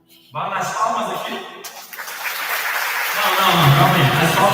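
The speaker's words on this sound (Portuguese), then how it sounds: "Vai nas palmas aqui." A seated audience at a military careers and politics conference claps along on cue, the clapping building from a sudden start and growing denser and louder near the end, with a voice speaking over it.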